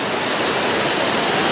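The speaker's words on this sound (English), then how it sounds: "One of my favorite water fountains. I love the Orlando airport." Water fountain splashing steadily inside Orlando airport, a continuous broadband rush like falling water, fairly loud and constant with no voices.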